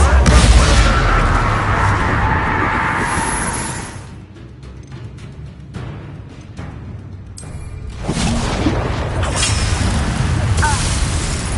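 Loud booming spell blasts and whooshes from the Confringo fire curse in the Hogwarts Legacy video game, with a dip in intensity midway before the heavy, roaring bursts return.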